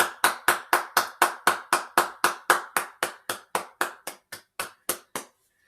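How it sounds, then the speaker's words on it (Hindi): A single pair of hands claps about twenty times in an even rhythm after a cultural performance at an inaugural ceremony. Each clap is sharp and close, and the claps grow slightly softer and slower toward the end. "समस्त मिसिकी गोटे बहुत जोरे ताली दियंतु"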